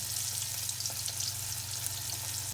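Oil sizzles and crackles steadily in a pan as dried fish fries, a close, continuous hiss with small pops.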